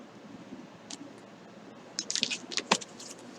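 Quiet rustling for the first two seconds, then a denser burst of crisp, papery snaps and flicks as tarot cards are riffled together close by.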